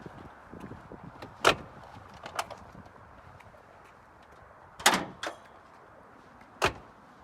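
Doors of a 1995 Ford F-250 pickup truck shut with sharp thuds, one near 1.5 seconds, a pair close together near 5 seconds and one more near 6.6 seconds, each standing out loudly against a low, quiet background.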